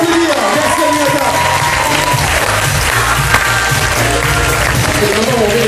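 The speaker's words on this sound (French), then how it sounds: "On peut l'applaudir, merci Aminata." Loud audience clapping at an evening campsite show in Mayotte, sustained over music and a speaker's voice through an amplified sound system, with a busy crowd texture throughout.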